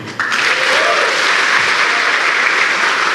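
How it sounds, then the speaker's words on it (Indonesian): A live audience at a stand-up comedy show bursts into loud, dense applause that starts abruptly and holds steady and close for about three seconds. "yang bangga jadi orang Indonesia, coba tepuk tangan"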